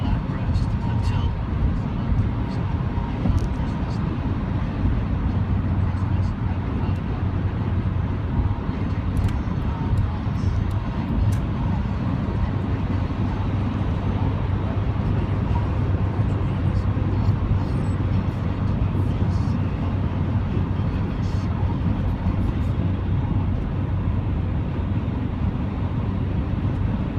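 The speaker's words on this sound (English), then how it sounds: "I'll just shut up and do some driving now" A 2000 Honda Civic under way fills the cabin with a steady, loud drone of engine and road rumble, unbroken for the whole stretch of driving.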